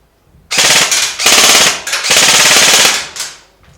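A G&G PCC-9 airsoft electric gun fires on full automatic in three loud, close bursts of rapid buzzing shots, with short pauses between them and no talking.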